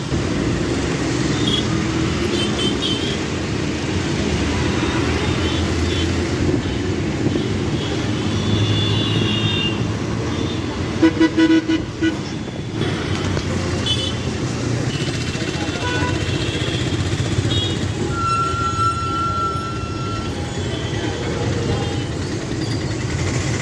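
Steady loud engine rumble and road noise inside a TSRTC city bus on route 19J in Hyderabad, continuous throughout with a brief rattling burst midway and faint background voices.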